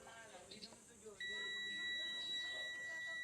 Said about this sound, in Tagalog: Nag-beep siya. Ibig sabihin may continuity.